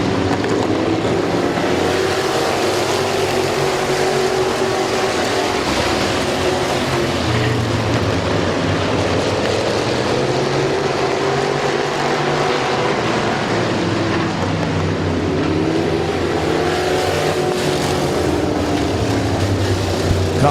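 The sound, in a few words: race cars restarting on green flag at Midvale Speedway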